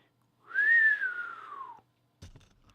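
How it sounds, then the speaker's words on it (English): A single sustained whistle that rises then slowly glides downward, followed by a brief soft knock. "Let's try that again. I can't even whistle."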